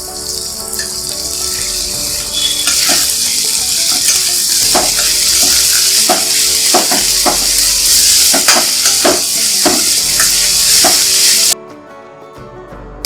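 Broccoli with sprouted green gram sizzles loudly in a hot pan while being stir-fried, with repeated clacks of a spatula or ladle against the pan, before the sound cuts out near the end.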